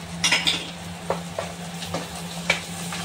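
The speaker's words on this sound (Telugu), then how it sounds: "ఈ ఉర్లగడ్డను కూడా వేసుకొని బాగా కలుపుకోవాలి" A spoon stirs potato masala in a pan, several soft scraping strokes at an uneven rhythm over a low steady background hum.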